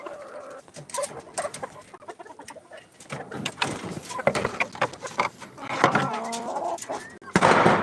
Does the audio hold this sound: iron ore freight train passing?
no